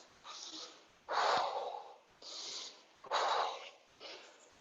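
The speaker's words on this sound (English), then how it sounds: "I don't know if you can hear me heavy breathing or not." Heavy, rhythmic breathing close to the mic during a yoga session, with loud, effortful exhales alternating with softer inhales, several cycles in a row.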